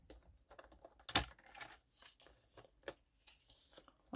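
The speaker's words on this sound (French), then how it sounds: "je vais couper à l'œil" Scissors cut paper in a quiet series of small irregular snips and crinkles, close and soft, with no talking.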